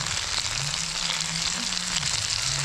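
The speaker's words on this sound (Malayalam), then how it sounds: "ഒരു വശം നന്നായിട്ടൊന്ന് മുരിഞ്ഞിട്ടുണ്ട്. നമുക്കൊന്ന് തിരിച്ചിട്ട് കൊടുക്കാം." A large seablank fish fries in a pan of hot oil, Kerala-style, giving a steady, dense sizzle and crackle that runs close and unbroken throughout, with no voices.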